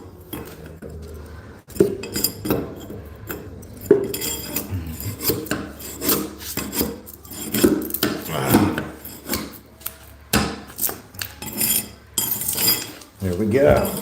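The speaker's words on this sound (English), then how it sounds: "so we can just pull some of these out." Nails being pulled from a floor while carpet is replaced with vinyl: close scraping, rasping and creaking of metal against wood in irregular bursts, with clanks and brief pauses, no talk.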